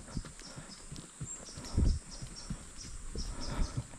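Horse hooves clip-clop along a nature trail at Kurland Park in Plettenberg Bay, South Africa, as the animal carries a rider, a steady close rhythm of dull thuds with a few heavier strikes and no talking.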